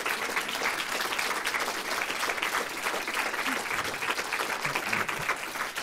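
Lecture audience applauding after a talk on Richard Wagner and French opera, with dense sustained clapping from a crowd filling the room evenly from start to finish.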